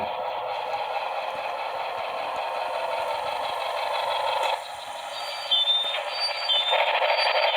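A Broadway Limited Imports Santa Fe Blue Goose model train locomotive runs at full throttle, giving a steady mechanical motor whir with a faint high whine and soft chirps near the end, close and continuous.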